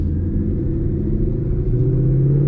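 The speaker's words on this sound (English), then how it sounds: "This exhaust is like the perfect amount of like loudness." Ford Mustang exhaust in track mode while driving, a steady loud low rumble with rising engine drone as it pulls through the gears, close and continuous with no talking.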